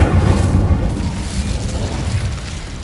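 Incendio fire spell cast in the video game Hogwarts Legacy, a loud, heavy whooshing burst of flame that booms and rumbles, then slowly fades into a low roar.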